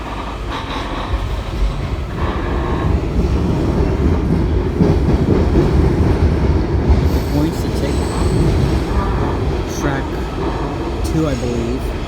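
Steady loud rolling rumble inside a Kawasaki 7000-series metro car seated near the front of the train, with wheel squeals and rail clatter continuous throughout, and a voice talking over it.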